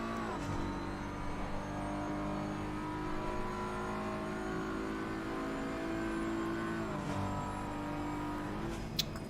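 Race cars, a BMW and a Bentley, lapping Suzuka in a racing video game, a steady whining engine drone with gear-shift steps in pitch, quiet and sustained under faint background.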